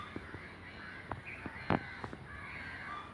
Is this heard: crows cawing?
yes